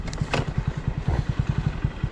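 A Hero Splendor Plus motorcycle rides over thick, fresh snowfall near Kaza in Spiti Valley, giving a steady, close, low thumping engine beat with rapid even pulses throughout, and no voices.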